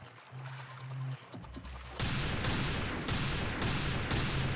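Gunshots in Roblox Arsenal, a one-on-one match: after a quiet stretch, a run of loud, evenly spaced shots rings out close up, each a sharp broadband crack.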